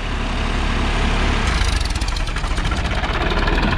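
A tractor engine runs loud and close, a rough, throbbing diesel chug that grows more pulsing partway through.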